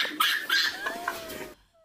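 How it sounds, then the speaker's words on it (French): A hen clucks in a quick series of short, bright calls, fairly close and clear, ending abruptly in silence. "C'est encore une poule."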